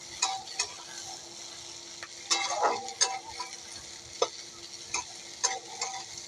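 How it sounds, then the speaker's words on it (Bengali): Chopped onion, green chili and capsicum frying in oil for a village-style veg pasta, a soft continuous sizzle broken by sharp, irregular scrapes and taps of a spatula stirring in the pan, close by. "একটু ভাজা ভাজা করব।"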